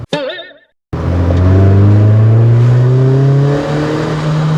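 A stock-engined 2010 Kia Forte Koup one-make race car is floored after a brief sharp start, its engine roaring loudly and climbing steadily in pitch as it pulls hard for several seconds.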